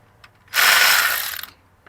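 A ratchet wrench clicks rapidly in one burst of about a second while loosening a bolt on a Toyota Corolla alternator bracket. Close and clear, in a quiet garage.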